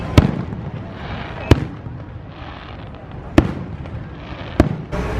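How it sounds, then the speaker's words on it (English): Four sharp, distant firework bangs pop at irregular intervals over a steady background rumble inside a vehicle at a Disney resort in California, with faint voices nearby. "You can just see some fireworks off there in the distance"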